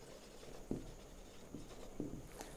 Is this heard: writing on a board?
yes